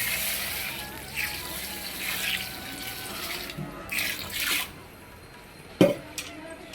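Water is poured from a tap over soaked sago pearls in a bowl for a fasting-day khichdi, a close running splash in bursts with brief pauses and a sharp clink near the end.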